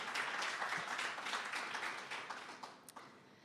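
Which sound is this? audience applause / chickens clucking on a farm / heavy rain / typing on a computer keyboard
audience applause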